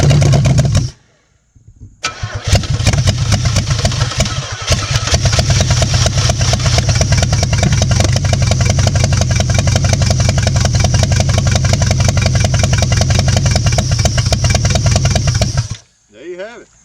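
A 50-year-old Oldsmobile engine mounted on an engine hoist cranks briefly, falls silent, then fires and runs at a loud, steady, uneven idle for about fourteen seconds before cutting off.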